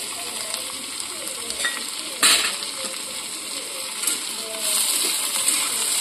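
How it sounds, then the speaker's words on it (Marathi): Chopped cashews, ginger, garlic and green chilli sautéing in a pan for mushroom masala, with loud steady sizzling, spatula stirring scrapes and a sharp clink partway through, no talking. "हे छान परतून घ्यायचं आहे।"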